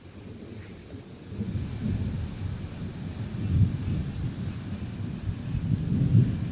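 Low, rolling thunder rumbles through a severe thunderstorm on Dauphin Island, Alabama, swelling and fading in several heavy waves over steady wind and rain noise, with no voices.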